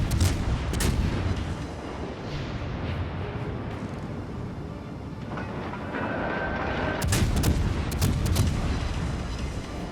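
Tier 6 British light cruiser Fiji firing armor-piercing shells in the naval game World of Warships: Legends: loud, repeated gun booms rolling over a continuous heavy rumble, with a cluster of sharper blasts near the end.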